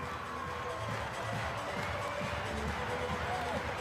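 Basketball arena crowd at a Sweden versus Germany EuroBasket 2025 qualifier, a sustained roar of cheering after a one-point final score, with a commentator talking over it.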